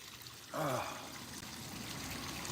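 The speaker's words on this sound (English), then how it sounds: "I just needed to hear that water." Water pours and trickles steadily outdoors in cold weather, a soft continuous wash with a brief brighter splash near the start, fairly faint and without talk.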